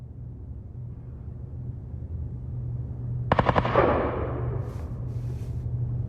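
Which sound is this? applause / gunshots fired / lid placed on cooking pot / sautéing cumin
gunshots fired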